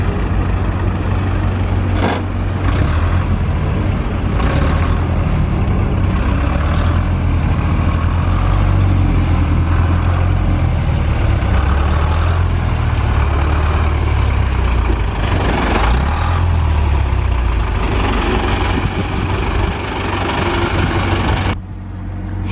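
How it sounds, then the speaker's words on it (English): A classic Ford recovery truck with a weathered AA badge rumbles nearby, its heavy engine idling and chugging in a steady, loud low drone that holds throughout with slight swells as it pulls in. "Here's that Ford recovery truck that we just saw pulling in."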